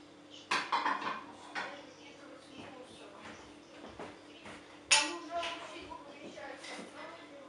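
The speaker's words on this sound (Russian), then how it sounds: "хочу вымыть всю посуду" Dishes and cutlery clink and clatter in uneven bursts, with sharper knocks standing out above a low background hum.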